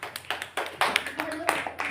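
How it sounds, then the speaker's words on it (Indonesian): A small group of students in an Indonesian classroom clapping for a student group, short irregular bursts of claps mixed with voices talking over them. "Kita beri tepuk tangan untuk kelompok 3."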